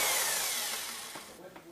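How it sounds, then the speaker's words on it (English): A drill boring pilot holes for the mounting screws of faux wooden blinds gives a brief, loud whirring hiss that winds down, followed by a couple of faint clicks. "I'm just going to use a drill just slightly smaller than my screw, just to make some pilot holes so this screw can come in"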